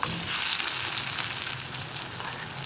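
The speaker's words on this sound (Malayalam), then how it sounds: "കുറച്ചായിട്ട് നമ്മൾ എണ്ണ ചൂടായി വരുമ്പോൾ കുറച്ച് ക്വാണ്ടിറ്റി എടുത്തിട്ട് എണ്ണയിലേക്ക് ഇട്ട് കൊടുക്കുക" Coated ivy gourd pieces shallow-fry in hot oil, giving a steady close sizzle with fine crackling throughout and no voices.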